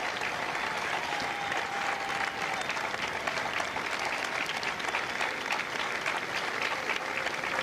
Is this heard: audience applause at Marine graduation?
yes